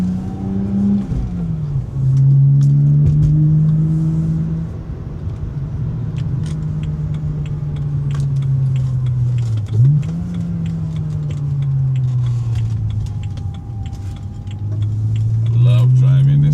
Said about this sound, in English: Love driving this car,